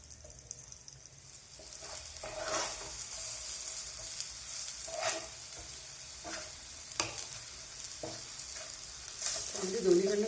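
Upvas patties made from suran and konfal fry in a hot pan, giving a soft, steady sizzle with occasional louder crackles and stirring clatter.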